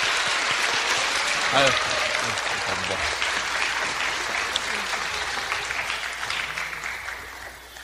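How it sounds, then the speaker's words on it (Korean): A live public audience at a civic lecture event claps steadily to welcome guests, a broad ongoing applause with a voice speaking briefly over it near the start. "큰 박수로 맞아주십시오"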